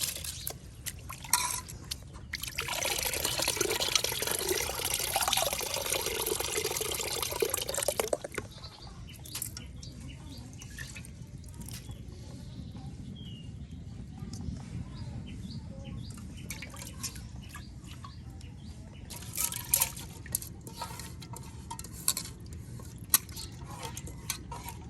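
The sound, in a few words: washing rice in water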